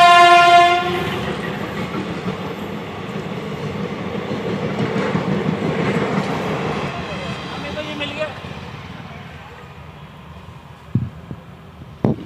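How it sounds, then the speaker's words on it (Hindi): A train blows its horn and then rumbles past a level crossing on the road toward Rishikesh. The loud, sustained clatter of rolling wagons fades toward the end, followed by a few sharp knocks. "ट्रेन आ चुकी है"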